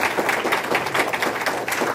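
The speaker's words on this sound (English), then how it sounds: "Just give another applause to Ismael." Audience applause for guest speaker Ismael Fernandez at a Hispanic Heritage diversity talk, a steady dense wash of clapping that holds at an even level throughout with no voices.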